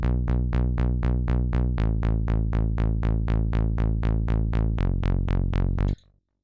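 A synth bass line from a remix plays alone, steady rapid repeated plucked notes with a rich buzzy tone, holding one pitch then shifting to another, loud and even before cutting off abruptly.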